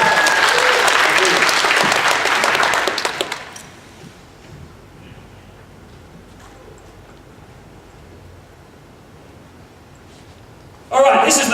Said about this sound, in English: Give Mandy a round of applause, please